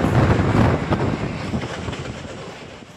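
A train at Vasai Road station gives off a loud, steady, broadband rumble with some wind buffeting, gradually easing over a few seconds, with no voices.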